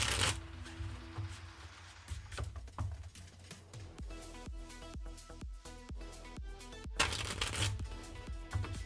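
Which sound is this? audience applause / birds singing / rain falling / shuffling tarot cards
shuffling tarot cards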